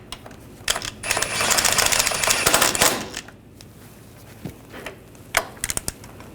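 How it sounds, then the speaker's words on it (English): Ratchet tightening bolts on a front wheel bearing and hub assembly of a 2014-2018 GMC Sierra 1500, heard as a long run of dense, rapid metallic clicks followed by a few shorter clicking bursts, close and fairly loud. "Tighten these down."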